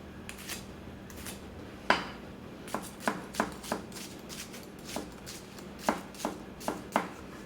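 A Masakage Mizu 210mm gyuto knife chops through food on a board in a string of crisp, close cuts, some quick and clustered, others spaced out, over a quiet background.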